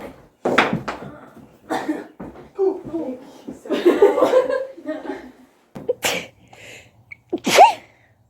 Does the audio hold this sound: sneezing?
yes